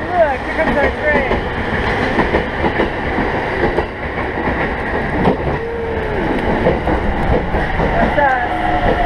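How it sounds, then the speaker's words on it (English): A train rolls in at a station in Japan with rhythmic clickety-clack and rumbling wheels, while people talk nearby over the noise. "look, here comes our train."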